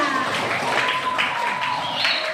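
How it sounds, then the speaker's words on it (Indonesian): An audience applauds after a group song at a school gathering, a dense, even wash of many hands clapping at once, loud and steady throughout with no voices above it. "Tepuk tangan untuk semuanya."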